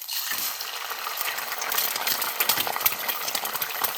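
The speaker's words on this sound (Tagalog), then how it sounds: "ako lang iuna og luto ang itlog" An egg frying in a pan, a steady bright sizzle with crackling pops, loud and close, continuous throughout without talk.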